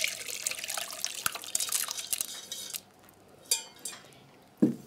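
Homemade tamarind and pineapple-peel tepache is poured through a strainer into a container of water, giving a steady liquid splashing that stops, followed by a few separate drips and light clinks from the utensil.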